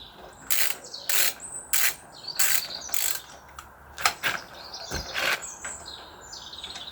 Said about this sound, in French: les pegs, c'est simple et efficace à enlever. On va enlever l'autre d'abord.